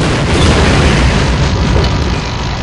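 A heavy RPG blast brings down an Apache helicopter in the game Half-Life, a dense, rumbling explosion sustained loudly for a few seconds with no talking over it.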